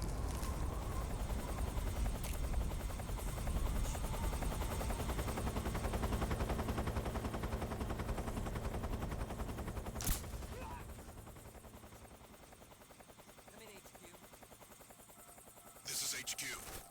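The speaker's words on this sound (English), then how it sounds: "Is it possible the Russians had more than one helicopter?" Helicopter rotor from Metal Gear Solid 3, a dense steady chop loud and continuous for about ten seconds with scattered gunfire-like bursts, then fading to a quieter drone as voices talk over the game audio.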